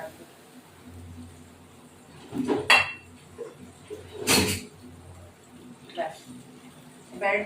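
A lid is set on a cooking pot of water for a fish dish, making a few sharp close clinks and knocks spaced apart over quiet kitchen background.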